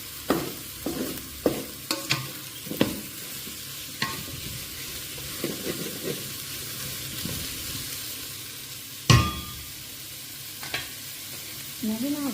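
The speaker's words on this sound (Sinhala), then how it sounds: "මේ විදිහට මේක හොඳට කලවම් කරගන්නවා දැන්." A rice mixture is stirred and fried in a pan for a nutritious all-in-one rice dish: repeated scraping strokes of the spoon over a steady sizzle, close and moderately loud, with no talking.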